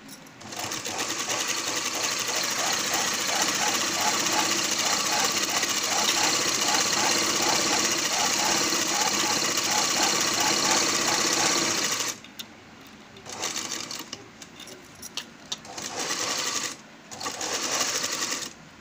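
A sewing machine stitching a pot neck blouse runs steadily and loudly for about twelve seconds with a rapid mechanical whir, then stops and starts in short bursts.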